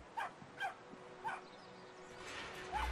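A small dog gives several short, high yips and barks spaced across the moment, fairly close, with faint background noise between them.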